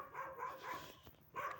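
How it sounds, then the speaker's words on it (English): A dog barks in short bursts somewhere outdoors, with a few sharp yips rising above a busy background, moderately close. "And over there, there's also a dog."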